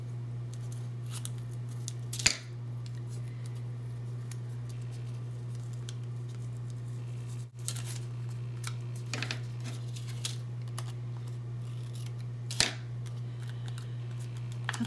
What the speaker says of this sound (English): Maybe just cut off part of this.